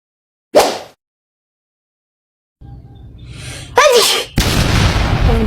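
A single sharp human sneeze bursts out near the start, followed by silence, then breathy sounds, a gasp and noisy rustling.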